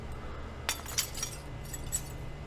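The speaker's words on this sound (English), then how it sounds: "Remove broken glass." Broken glass being cleared from a window in the Project Zomboid video game, heard as a few sharp, bright glassy clinks and crunches over a low steady hum, with no talking.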